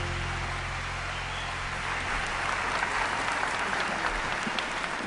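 An audience at an awards ceremony in Las Vegas claps steadily, a dense, even wash of hand claps from a large crowd that holds throughout without talk.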